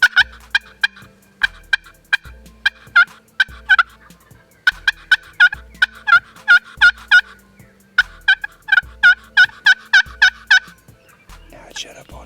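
A wild turkey gobbles repeatedly during a Kentucky spring hunt, loud bursts coming in rapid series with brief pauses between volleys, clear and close with no talk over them.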